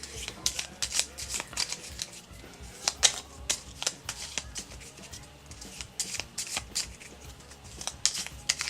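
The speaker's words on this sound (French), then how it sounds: "J'ai récupéré 3 cartes de la partie précédente que je vais mélanger au deck d'objets." Playing cards for The Texas Chainsaw Massacre board game are shuffled into an item deck, with rapid crisp riffles and flicks in repeated bursts, close and fairly quiet, no talking.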